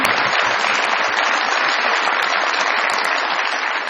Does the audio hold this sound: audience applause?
yes